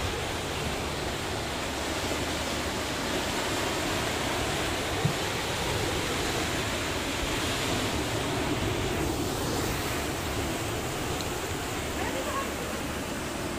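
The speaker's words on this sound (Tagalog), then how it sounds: "Grabe yung alon. Nakakatakot." Big ocean waves at Tahara Long Beach in Japan crash and roar in a dense, continuous wash of surf, loud and close, with wind noise buffeting the microphone throughout.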